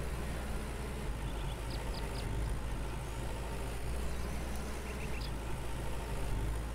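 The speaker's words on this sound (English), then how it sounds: "So let's go ahead and jump back into our tractor." Steady low tractor engine idling in the Farmer's Dynasty farming game, a constant rumble with faint short beeps, heard alone with no talk.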